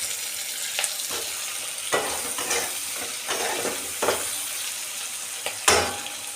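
Tomatoes frying in a pan for a lentil tadka, a steady sizzle broken by several distinct stirring scrapes, close and moderately loud.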